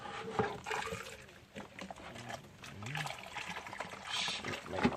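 Water splashes and sloshes in bursts, with trickling and spilling sounds, close by and fairly busy throughout.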